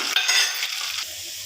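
Oil sizzling and crackling as green chillies, dried red chillies and garlic fry, with stirring scrapes, a busy hiss that eases off after a second, nearby and fairly loud, no voices.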